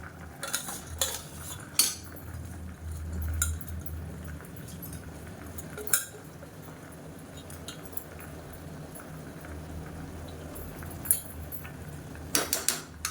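Soaked rice is stirred into chicken biryani in a pressure-cooker pot. A spoon gives scattered scrapes and sharp clinks over a low, steady bubbling hum, with no talking.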